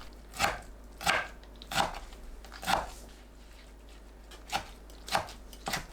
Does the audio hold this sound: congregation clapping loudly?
no